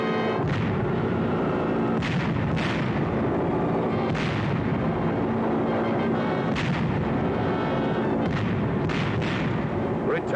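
Bombs dropped by B-24s in a raid over Messina, Sicily, explode in a loud, relentless barrage, with repeated heavy booming bursts every second or two over a constant thundering rumble.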